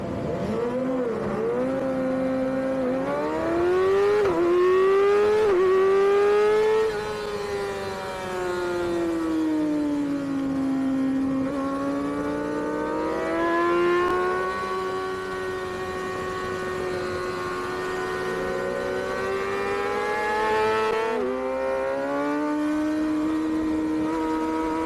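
Middleweight racing motorcycles at full speed in a Formula 40 race at a CVMA round, engines wailing and rising and falling through gear changes, loud and close with a continuous high-revving drone and no talk.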